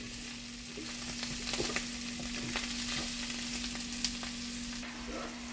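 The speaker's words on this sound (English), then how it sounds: "Get them cooking and popping." Leftover steak fajita ingredients sizzle and pop in a pan, a steady frying hiss with scattered small crackles and pops, fairly quiet and alone.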